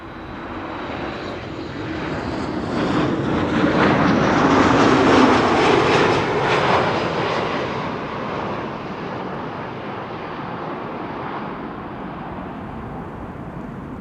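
A passenger jet passes at Amsterdam Schiphol, its engine roar swelling to a loud peak midway and then fading slowly into a lingering distant rumble.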